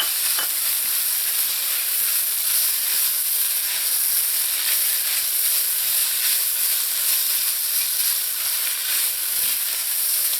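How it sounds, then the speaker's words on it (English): Tomato paste and ketchup sizzle steadily in a hot pan with occasional stirring scrapes, a continuous bright frying hiss lasting throughout with no talking. "now I'm going to add in some tomato paste and tomato ketchup"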